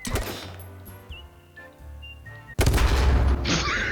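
Gunfire in a video game as a barrel is shot, sharp rapid shots and clinks followed by a sudden loud explosion that roars on with debris noise, close and loud.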